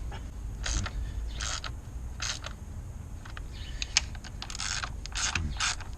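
A ratchet wrench works on car valve covers, giving quick runs of sharp mechanical clicks in several separate bursts over a low steady background hum.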